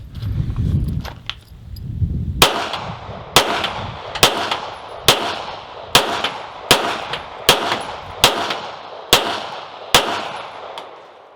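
Kel-Tec P15 handgun fired one-handed, eleven sharp, loud shots at a steady pace of roughly one per second, each ringing briefly, after a short stretch of low wind noise.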